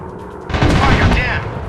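Enemy fighter jet cannon fire in an air combat simulation game, a loud dense burst of rapid gunfire and booming rumble starting about half a second in and lasting over a second amid the game's action.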